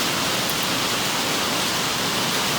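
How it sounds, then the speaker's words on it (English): Heavy rain pours outside as a dense, even roar of broadband hiss, loud and unbroken throughout with no voices. "It's raining really good outside."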